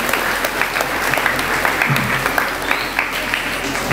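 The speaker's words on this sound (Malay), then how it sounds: "tahniah tepuk tangan" Clapping from an audience at a school ceremony announcing SPM exam results, a steady burst of many hands that continues evenly throughout.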